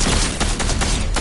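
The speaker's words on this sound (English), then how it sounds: "Who's shooting?" Rapid gunfire in Fortnite, a dense burst of repeated loud shots with short regular gaps, close and continuous for about a second.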